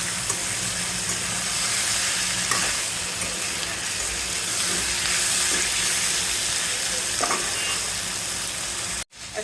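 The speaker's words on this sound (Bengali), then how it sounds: "আস্তে নাড়া দিব যাতে ভেঙে না যায়" Bata fish and eggplant sizzle steadily in a frying pan while being gently stirred, with soft scrapes and clicks over the continuous frying hiss, which cuts off briefly at the end.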